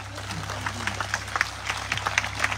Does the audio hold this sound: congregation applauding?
yes